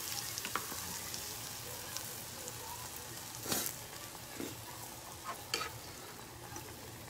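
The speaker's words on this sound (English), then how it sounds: "So I'm going to let it fry" Batter-coated Oreos fry in hot oil with a soft, steady sizzle and a few scattered pops, quiet and even, with no one talking.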